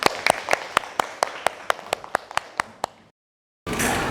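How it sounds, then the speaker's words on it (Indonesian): A classroom of students claps in quick, even unison, about a dozen sharp claps close by, then the room drops into a brief silence before noise returns. "Tepuk tangan untuk Rani."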